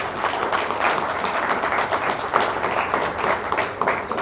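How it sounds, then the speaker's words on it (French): Students in a lecture hall applaud their teacher at the end of a talk on digital culture, a sustained, moderately loud patter of many hands clapping at a steady pace with no voices over it. "On n'applaudit pas un prof."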